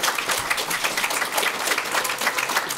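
Sustained audience applause after a talk on making believable characters in VR, dense steady clapping from a sizable crowd, even and moderately loud throughout.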